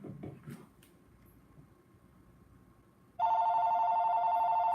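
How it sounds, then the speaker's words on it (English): A telephone rings for an incoming call, a steady loud electronic ring that starts suddenly after a quiet stretch and keeps going. A few faint knocks are heard earlier. "Phone call."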